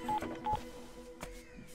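Telephone keypad tones beep as a number is dialed: a few short, faint electronic dial tones in quick succession.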